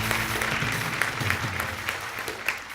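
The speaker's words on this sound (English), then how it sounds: "Round of applause for her." Audience at a junior insurance awareness quiz grand finale applauds in a fairly loud, continuous burst of clapping with low hum beneath.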